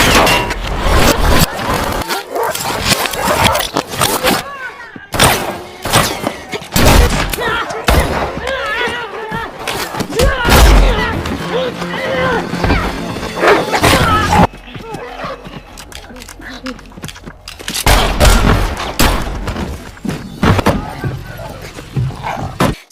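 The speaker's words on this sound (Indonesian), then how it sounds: "Dari situ mereka berdua pun terlibat baku tembak dengan anak buah si pria" Gunfight from the film John Wick, with loud, rapid bursts of gunfire crowding a dense, chaotic action soundtrack, shots arriving in clusters with only brief lulls throughout.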